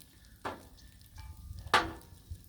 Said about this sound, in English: Let's crack some eggs, crack some yolks